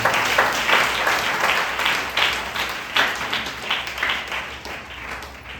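Church congregation clapping together in a sustained, dense round of applause, loud and steady throughout with no voices standing out.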